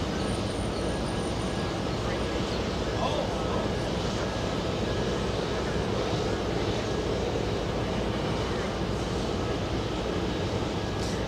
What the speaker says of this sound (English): 767, touching down on 4 right